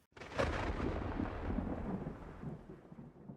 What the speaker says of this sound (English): Another lightning bolt sound effect.